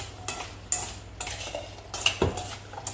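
A utensil scrapes and clinks against a bowl while cinnamon is mixed into apple cake batter, in short irregular strokes that are close and fairly crisp.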